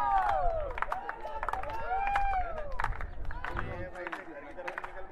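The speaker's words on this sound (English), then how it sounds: "the crowd, which is present in lesser number but quite vocal and quite encouraging" Vocal crowd at a 5000m national federation cup race cheering, clapping and whistling encouragement to the runners, a continuous lively roar with an announcer talking over it.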